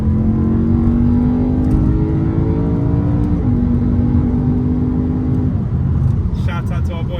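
Frozen grey BMW E92 M3 dropping a gear and accelerating hard, a loud continuous engine roar with rising pitch sweeps and a shift break partway, steady and close throughout.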